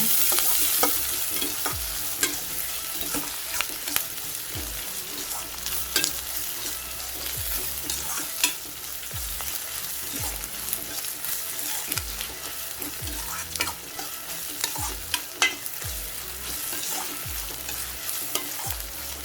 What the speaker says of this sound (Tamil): கருவேப்பிலை, பச்சை மிளகாய், துருவி வச்ச இஞ்சியை சேர்த்துக்கலாம். நல்லா வதக்கி விடுங்க.